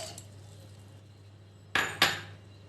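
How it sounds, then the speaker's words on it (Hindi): Two sharp clinks of a mixer grinder jar being handled as soaked red chillies go in, close and distinct near the end after a quiet stretch of low hum. "अब हम एक मिक्सी के जार में इसको डाल देते हैं।"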